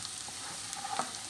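Onions with thin-sliced green chillies frying in a pan while being stirred until brown, a soft steady sizzle with a few faint scraping touches, brief and quiet with no talk.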